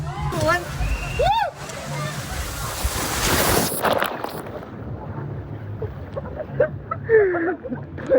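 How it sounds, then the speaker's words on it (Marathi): Water splashes and sloshes amid outdoor noise at a water park, with people talking and shouting over the splashing throughout. "पाणी उडलं."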